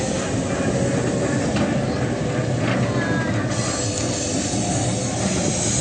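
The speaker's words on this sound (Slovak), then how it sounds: "prichádza párny rušeň 331059, známy ako Uhranka, Maďarka alebo aj Marka." Steam locomotive 331059, built in Budapest in 1950, a two-cylinder tender engine, arriving on a turntable at a railway event in Bratislava: a steady, loud rolling rumble with hiss and clatter throughout.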